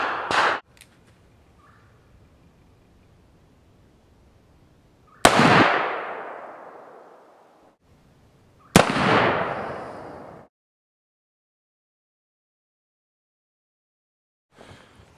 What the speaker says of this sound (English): let's check the velocity on Kaido's 240 grain conicals